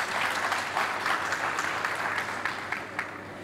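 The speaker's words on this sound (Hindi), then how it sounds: "सो एक बार इस इनोवेशन के लिए आप लोग जोरदार तालियां बजा दीजिए।" Studio audience at an Indian media panel discussion breaking into loud, sustained clapping from many hands, dense and close, tapering slightly toward the end.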